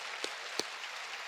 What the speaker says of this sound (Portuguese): Pode aplaudir. Pode.